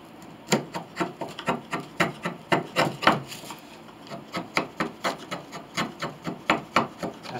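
A quarter inch chisel pares wood on a part from an 1867 Chickering 33B piano, giving a steady series of short, close scraping strokes with a brief pause midway.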